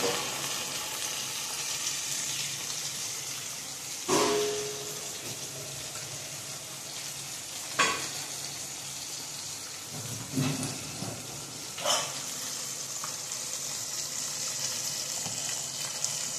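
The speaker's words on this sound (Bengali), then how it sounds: "মাছগুলো আর একটু আমি উল্টে পাল্টে দেবো, যাতে কড়া কড়া করে ভাজা হয়ে যায়।" Pieces of parshe fish (mullet) frying in oil in a pan, a steady crackling sizzle broken by a few sharp clatters as they are turned; no talking.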